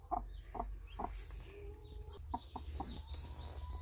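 A Cheonggye mother hen gives a run of soft, rhythmic clucks while hatching eggs, close and fairly quiet, with a few sharper peeps near the end.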